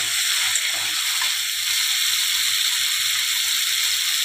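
A spice paste of cumin, mustard, ginger and garlic frying in a pan for a fish curry, giving a steady loud hiss and crackle that runs unbroken throughout with no talk.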